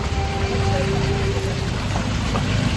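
Steady monsoon rain falls continuously around a bus trip, a dense wash of noise with a low engine-like rumble beneath and a faint steady tone, no voices.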